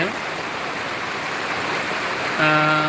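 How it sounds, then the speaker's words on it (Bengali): Heavy rain falling in a village at dawn, a steady dense rushing hiss throughout, with a louder humming tone entering near the end. "আজকে আসলে প্রচুর পরিমাণ বৃষ্টি হচ্ছে"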